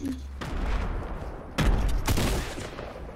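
Gunfire in an online shooter game tournament, a few sharp bursts of shots cracking out over a low rumbling background, no speech.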